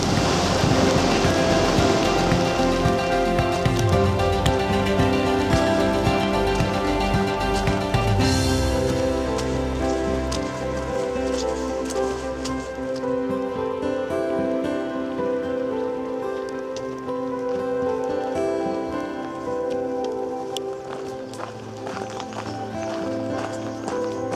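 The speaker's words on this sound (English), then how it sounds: "The first rain of El Camino." Steady rain falls outdoors on the Portuguese Camino de Santiago from Lisbon to Porto, a dense continuous hiss of drops with some rustling and movement nearby, with no talking.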